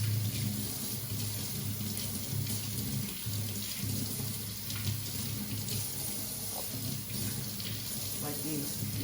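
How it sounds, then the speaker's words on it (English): Green onions are rinsed under a running kitchen tap, a steady close splash of water streaming over the stalks, with faint talk in the background. "then you have to rinse them because there's some dead part."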